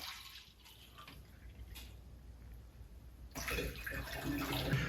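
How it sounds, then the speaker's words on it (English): Water pours into a home cider-making batch, starting as faint dribbling and trickling, then swelling into a louder, fuller splashing stream for the last stretch. "Then we're going to take our water and add 5 cups."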